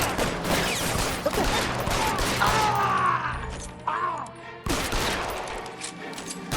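Gunfire in the L.A. Noire video game crackles in rapid bursts amid a firefight, with sharp shots layered over dense noise and a brief lull before the shooting resumes.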